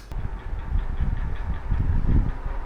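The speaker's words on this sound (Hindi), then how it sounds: "चलिए अब मैं फ़ैन को ऑन कर देता हूँ" A room fan switched on, giving a steady, close low whir and hum that runs continuously without any speech.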